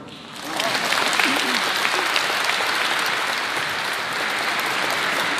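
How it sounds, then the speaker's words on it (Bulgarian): A large crowd gives a football coach sustained, dense applause at a club awards event in Dupnitsa. It starts quickly and stays loud and steady throughout, with no talk over it. "Аплодисменти за Танчо Калпаков, треньор номер едно в колективните спортове"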